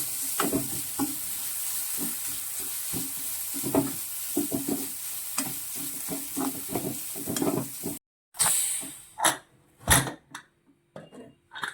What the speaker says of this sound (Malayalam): നമുക്ക് നല്ലവണ്ണം ഈ അരപ്പൊന്ന് മൂക്കട്ടെ